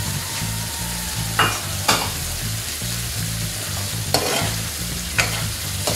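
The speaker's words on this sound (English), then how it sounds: "we've got a half of a cube tomato here, just going in now" Chopped tomato hitting a sizzling curry in a pan, a continuous hiss of frying with a few sharp stirring scrapes over a low steady hum, close and without speech.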